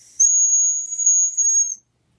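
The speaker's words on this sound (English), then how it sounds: "Now the dog whistle, this is what it looks like right here." Dog whistle blown in one sustained, very high-pitched steady tone lasting about a second and a half, loud and close, then silence, with no talking.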